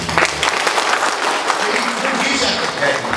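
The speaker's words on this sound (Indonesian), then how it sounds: "Tepuk tangan untuk C.U." Applause at a credit union staff retreat, a loud, close burst of clapping from a gathered group, with voices mixed in under the clapping.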